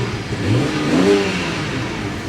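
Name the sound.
car engine revving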